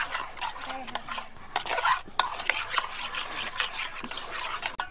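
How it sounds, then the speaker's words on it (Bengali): Sugar, salt and white oil stirred together in a bowl for spinach luchi dough, a steady scraping and clinking of a spoon against the container, close and moderately loud, with no talking. "এবার ভালোভাবে মিশিয়ে দেবো।"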